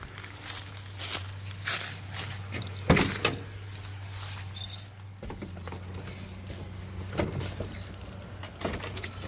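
A Suzuki Samurai engine runs with a steady low idle throughout, broken by a few sharp clunks and rattles nearby and a shift in its drone partway through.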